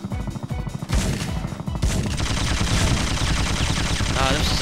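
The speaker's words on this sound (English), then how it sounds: "Okay, I better use the shotgun." Gunfire from a shotgun in the video game Syphon Filter: a dense, loud barrage of sharp blasts that runs almost continuously, with game music and effects underneath and a quieter stretch near the start.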